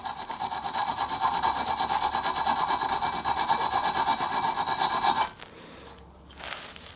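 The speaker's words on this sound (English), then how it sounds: "you're going to file a little flat on the end and then drill through it" A metal file rasps back and forth in rapid, steady strokes on the end of a ladder pin for about five seconds, close and loud, then stops, followed by a brief softer scrape.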